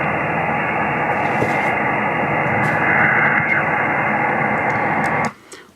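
A white noise recording made at Lents Cemetery is played back slowed down: a loud, steady, muffled band of hiss with faint flickers, cutting off abruptly near the end into quiet room noise.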